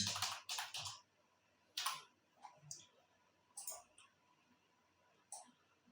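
Computer keyboard typing heard up close and quiet, a few short bursts of clicking keystrokes separated by pauses, with no talking.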